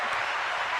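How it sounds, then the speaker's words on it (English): Studio audience applause, a short burst of steady clapping from a small crowd, moderately loud and without talk. "Round of applause."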